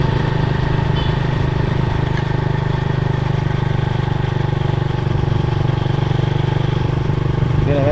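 A fuel-injected motorcycle engine, freshly overhauled and being broken in, runs at a steady, even idle close by for several seconds, a constant mid-range drone with no change in pace.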